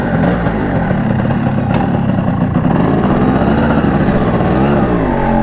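A 1997 Yamaha RXG motorcycle engine runs steadily up close, a loud, continuous buzzing drone with slight rises and falls in pitch as it pulls, filling the whole stretch without pause.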